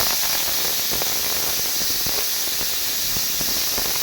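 A pressure cooker cooking red mutton curry lets off steam through its whistle: a loud, steady, close hiss that runs unbroken throughout with no voices.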